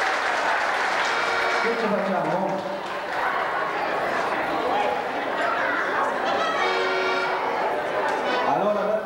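Applause for newlyweds at an Italian wedding reception, a steady wash of clapping that runs the whole time, blended with crowd chatter and voices over it.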